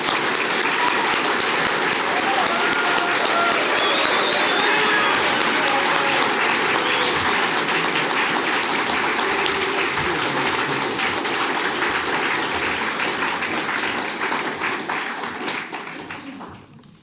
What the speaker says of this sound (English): So please put your hands together and give a hearty round of applause for the one and only Mark Collett.